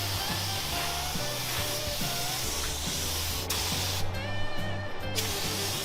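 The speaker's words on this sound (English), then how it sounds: "And we're gonna put 3 coats of primer on this." Primer sprayed onto a car part, a continuous loud hiss of spray with a steady mechanical hum underneath, close by and unbroken, with no voices.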